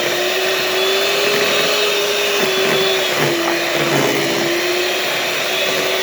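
An electric mixer whirs steadily and loudly through no-bake cheesecake filling, its motor pitch wavering slightly as the beaters churn, with no talking over it.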